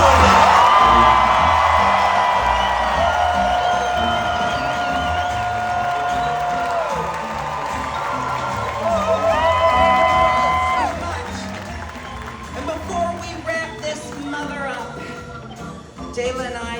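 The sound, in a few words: audience applauding and cheering for Jinkx and DeLa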